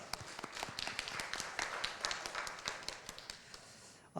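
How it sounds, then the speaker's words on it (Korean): Church congregation clapping in thanks during a Sunday service, a faint, patchy patter of hands with individual claps standing out. "우리 감사하다고 박수하겠습니다."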